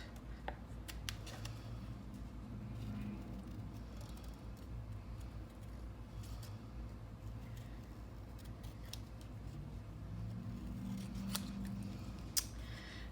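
Scissors cutting out shimmery paper leaves at a craft table, with soft, close snips and crisp clicks recurring irregularly over a steady low hum of traffic-like background noise.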